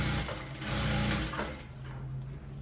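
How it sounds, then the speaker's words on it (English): Sewing machine stitching a seam on a cowl neck blouse, a close continuous mechanical whir and rapid needle chatter that runs steadily and eases slightly near the end. "I'm sewing that shaping so that the back will still be snatched on the inside"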